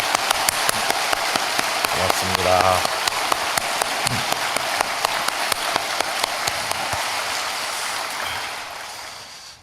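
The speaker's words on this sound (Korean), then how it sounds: "우리 감사의 박수를 한번 하겠습니다" A church congregation at Youngnak Church claps steadily in a dense, rain-like wash, while someone briefly speaks a word of thanks over it; the applause tapers off at the end.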